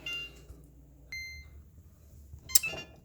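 A kitchen-style timer gives a single clear electronic beep, followed later by a short button blip and some handling noise, all fairly close and with no talking.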